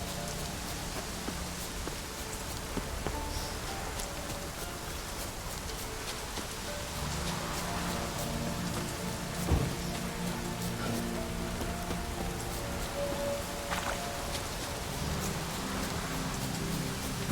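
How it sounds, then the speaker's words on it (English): Steady rain in a video game falls as a dense, even hiss of drops patting on surfaces, continuous at moderate level with a few soft thuds, and no voices. "Looks like rain."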